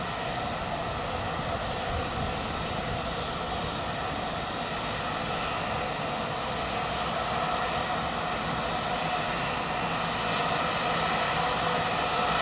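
Pratt & Whitney-powered older 200-series airliner at London Heathrow Airport producing a loud, steady engine roar that stays constant and close throughout, with no talk over it.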